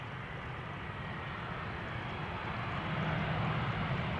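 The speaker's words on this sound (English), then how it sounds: "This is TUI flight 391. Returning from Curaçao, Willemstad." A TUI airliner arriving at Amsterdam Schiphol Airport, its engines a steady, broad roar that holds throughout and swells slightly louder toward the end, with no voices.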